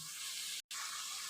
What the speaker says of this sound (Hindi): अब हम चिकन के साथ मसाले को भूनेंगे, इससे हमारा चिकन भी भुनेगा और मसाला भी।